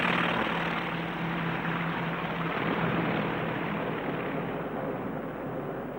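Propeller engine drone of a coastal surveillance aircraft in flight, a steady loud continuous roar with no talk over it.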